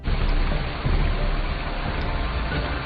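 Heavy rain pours down in a forest, a dense, steady wash of noise that stays loud and unbroken throughout with no voices.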